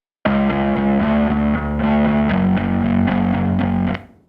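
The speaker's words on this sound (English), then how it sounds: "We have a little bit of grit coming from the dark glass distortion into the mark bass." A grungy, growly bass guitar tone with slight low-mid grit from a Darkglass distortion into a Markbass amp, playing a steady riff of repeated low notes, loud and upfront, ending in an abrupt cutoff.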